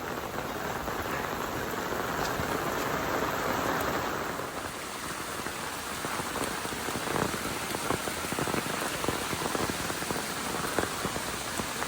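Heavy rain pours down steadily on a wet mountain hiking trail, a dense continuous hiss of drops striking leaves and ground with no voices, slightly louder in the first few seconds.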